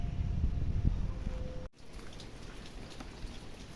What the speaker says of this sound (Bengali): আবার কি বৃষ্টি হয়ে গেল